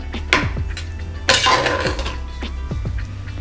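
Masala bhat is served from a cooker onto a plate, with a spoon clinking and scraping against metal in a few sharp knocks and one louder clattering scrape, close by, with no talk.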